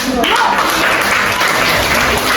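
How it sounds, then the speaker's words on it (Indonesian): Students in a classroom applaud the presenting team with loud, dense clapping that continues throughout, and voices can be heard under it. "so give applause to all"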